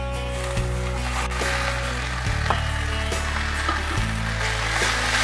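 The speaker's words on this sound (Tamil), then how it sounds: "நல்லா கலந்து வச்சிடலாம்." Cooked basmati rice being stirred into potato masala in a pan gives a steady sizzle with soft scraping and stirring, close and continuous, with a few duller knocks of the spoon against the pan.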